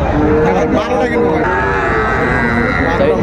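Cattle lowing at a busy livestock market where farmers buy Sahiwal bulls, with several drawn-out moos rising over a dense crowd murmur and people talking nearby.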